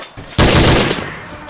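A single loud gunshot sound effect in a comedy skit, a sudden sharp blast that decays over about a second, close and dominant.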